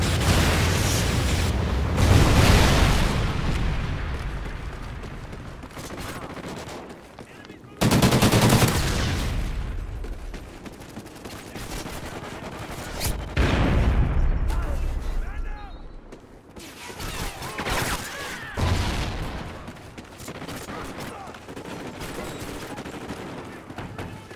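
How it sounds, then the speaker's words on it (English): Online multiplayer Call of Duty: Ghosts match with a Trinity rocket strike: loud bursts of gunfire and booming blasts come in waves, some close and sharp, others fading, with voices heard among them. "Friendly Trinity rocket inbound"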